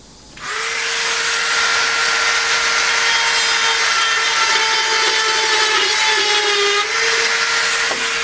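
A Dremel rotary tool cuts a line into an arcade game controller panel with a loud, continuous high whine and grinding rasp. It starts abruptly after a quiet moment and runs unbroken to the end, with a slight dip in pitch partway through.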